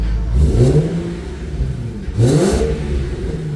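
A car engine revs up twice in quick bursts, each rising in pitch then settling back to a steady idle, close and fairly loud.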